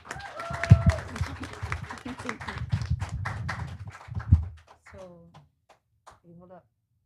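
An outdoor rally audience applauds for a speaker at an abortion-rights protest, a scattered burst of claps and cheers over several seconds that dies away to quiet with a few voices.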